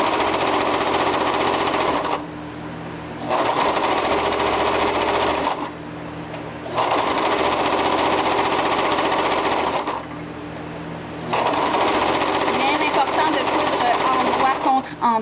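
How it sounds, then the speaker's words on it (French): Sewing machine running a zigzag seam along a fabric headband, a loud close whirring drone in three long bursts separated by short quiet pauses, with talking around it. "On vient faire toute la couture tout au long."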